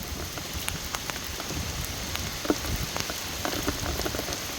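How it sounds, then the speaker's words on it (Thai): Steady rain pattering on a surface outdoors in rural Thailand, a dense continuous hiss with scattered heavier drops, moderately close and unbroken by talk. "โอ้ยฝนตกแล้วบัดนี้"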